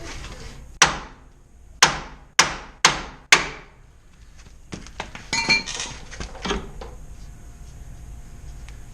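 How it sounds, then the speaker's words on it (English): Five sharp, loud metallic hammer strikes in a steady rhythm knock against the ball joint on a first-generation Nissan Xterra's suspension, followed by lighter clanks and rattling of parts. "then you got to pop the ball joint out"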